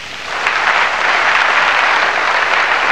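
Sustained applause from a crowd at a 1992 men's European Open squash match, a dense, steady clatter of clapping that swells shortly after starting and holds loud throughout.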